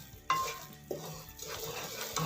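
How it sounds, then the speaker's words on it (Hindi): A spoon stirs thick melted jaggery in a pan, quiet scraping strokes with a soft clink at the start, faint and close, no talk. "हाथ मत रोकिएगा, अपना चम्मच चलाते रहे, नहीं तो नीचे से ये लग जाएगा।"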